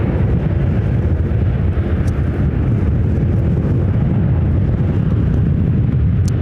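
FedEx feeder Cessna Super Cargomaster turboprop arriving at Ontario airport in California, a steady loud low rumble with wind buffeting that holds at a constant level throughout, with no voices.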